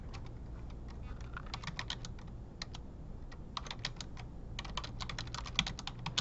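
Fingers type on a computer keyboard in quick, uneven bursts of clicks, close and clear over a steady low hum, with brief pauses between runs and no talking.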